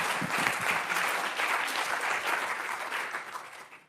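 Sustained audience applause at an academic research paper session, dense steady clapping from a seated crowd that holds strong throughout and tapers slightly at the very end.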